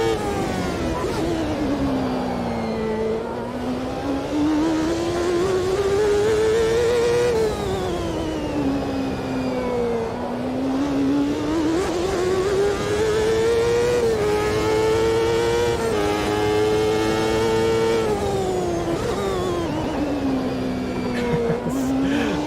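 Race car engine in Automobilista 2 revving and shifting continuously through a tight section, with a rising and falling drivetrain whine over bumps and under braking, loud and close with no talk.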